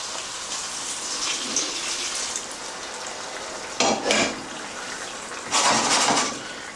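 Cooking liquid poured into beans in a pot over a flame, heard as two short splashing, hissing bursts over a soft background sizzle, close by and without talking.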